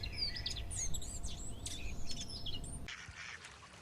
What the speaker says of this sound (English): Yet the other duckling quacked.